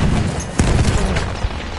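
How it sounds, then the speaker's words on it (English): A bomb explosion in the video game Battlefield 1, a loud, dense boom with a rumbling burst that fills the short moment, heard up close amid other battle noise. "Bomba atıyorum."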